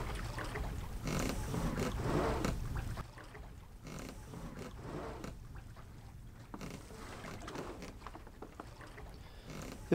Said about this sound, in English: So I've got this little bridle set up where I can just easy haul the dinghy out of the water.